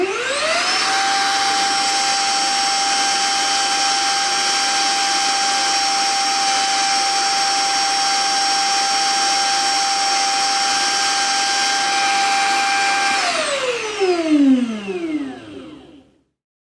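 Brigii M1 handheld vacuum running alone with a steady, loud, close motor whine that holds for about thirteen seconds, then winds down in pitch and fades out.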